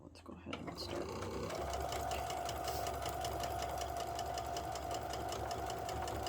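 A sewing machine stitches fabric guided along a quarter-inch edge guide, starting after a moment and then running in a steady, close, rapid mechanical whir while a person talks over it.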